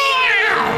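A cartoon cat gives a single short, clear meow, close and fairly loud, with no speech over it.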